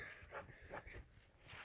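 Zoe, a dog out on an elk shed hunt in Utah, whimpers in several short, faint whines close by, each a brief rising cry separated by quiet pauses.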